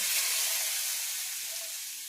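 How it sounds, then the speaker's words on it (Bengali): Fried potatoes frying in a spice paste in a pan, producing a dense, steady, bright sizzle that holds evenly and close with no voices. "ভাজা আলুগুলো ওর মধ্যে দিয়ে দেবো"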